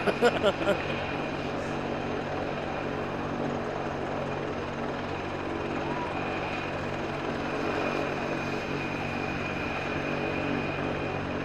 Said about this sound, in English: I hope that the sound that helicopter is making is coming through as clear for the broadcast as it is my ear